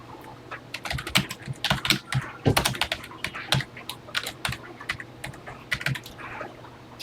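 Rapid, uneven keystrokes on a TI-99/4A home computer keyboard as a BASIC program is typed in, close and clear, with short pauses between bursts over a low steady hum; no talking.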